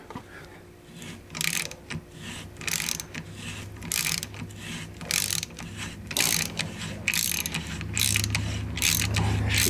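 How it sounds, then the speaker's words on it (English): A bench vise being cranked tight produces a run of repeated ratcheting, grinding metal clicks at close range, with steady mechanical rhythm and no talking. "Tighten my vise a little bit."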